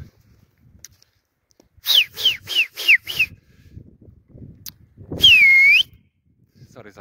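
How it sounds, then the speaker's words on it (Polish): A person whistles a quick series of five short rising notes, then one longer sustained whistle, loud and close, outdoors while pigeons are being flown by neighbours. "Sorry za gwizdy."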